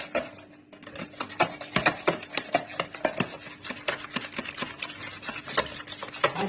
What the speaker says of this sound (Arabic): هعمله في بعض جامد، هرفه في بعض جامد كده بالمضرب